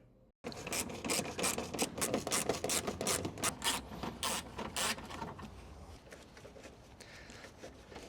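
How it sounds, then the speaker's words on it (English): Screws being worked out of the bumper on a Citroen Xsara Picasso 2.0 HDI, heard as steady close-up rasping and scraping that goes on for several seconds, then fades to lighter scratching. "Let's remove the 3 screws holding the bumper down here."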